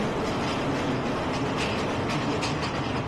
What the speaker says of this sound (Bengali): তার মধ্যে দিয়ে আমাদের ট্রেন যাচ্ছে।